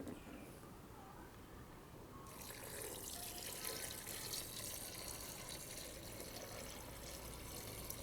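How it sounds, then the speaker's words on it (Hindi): Water is poured into spicy desi chicken in a pressure cooker, a soft splashing rush that starts suddenly after a couple of quiet seconds and continues steadily, faint and close. "और अब हम इसमें थोड़ा सा पानी डालेंगे"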